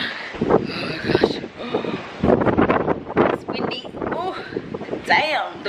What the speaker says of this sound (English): It's actually windy.